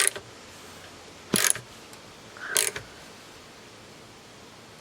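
Tightening a bolt on a Jeep TJ/LJ seat bushing produces two short, sharp metallic bursts about a second apart, like a wrench or ratchet turning, over quiet background noise.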